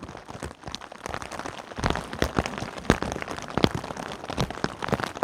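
Heavy monsoon rain pounds a tarp shelter in the Guadalupe Mountains backcountry, a dense, steady patter with sharper individual drop cracks rising and falling throughout, close and loud.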